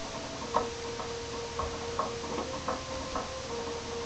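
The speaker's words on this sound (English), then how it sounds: "Somebody's knocking at the door." Knocking at the front door late at night in the Earthbound video game, heard as a few evenly spaced, soft knocks over a steady hum of background game music.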